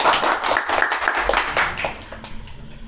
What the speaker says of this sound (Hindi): एक बार ताली दे दीजिए आयुष के लिए।